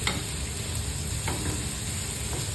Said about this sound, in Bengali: পেঁয়াজটা বেশ লাল লাল করে ভাজতে হবে